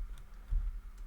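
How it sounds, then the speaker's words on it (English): Brief soft keyboard typing on a computer while entering room labels in FreeCAD BIM, a few quiet clicks close by with no voices. "I could also type in just the standard text like this"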